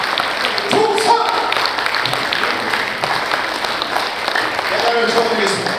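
Sustained applause from a crowd at a Korean War memorial service in South Korea, steady and loud clapping filling the whole stretch without pause.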